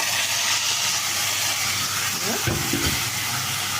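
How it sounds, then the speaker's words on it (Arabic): Boiled lentils and their cooking water are poured into a pot of rice for one-pot koshari, a steady wet rushing hiss that ends in a short burst of sloshing and stirring. "هجيب العدس اللي انا سلقاه ده بميته بكل حاجه كده وانزل فيه"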